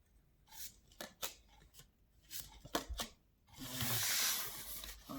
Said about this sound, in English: I'm going to pick a few cards to get started